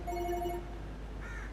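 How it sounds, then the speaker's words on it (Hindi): A telephone rings with a steady electronic ringtone in a home setting, a short repeated tone that stops partway, followed by quieter background. "इसका फोन आ गया ये।"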